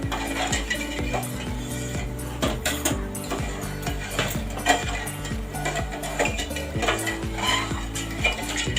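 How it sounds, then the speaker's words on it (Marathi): A metal spoon clinks and scrapes repeatedly against a pot while stirring boiling sugar syrup for gulab jamun, steady rhythmic knocks up close, no talking. "हे ढवळत राहा खाली साखर चिपकू नये म्हणून"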